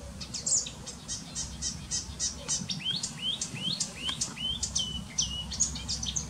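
A marsh or reed warbler sings from waterside greenery in repeated short chirping, trilling phrases, moderately near and clear over a quiet outdoor background hum.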